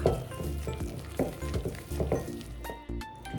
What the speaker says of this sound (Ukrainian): Іншу частинку ми вже розмішуємо ложкою, а далі вимішуємо рукою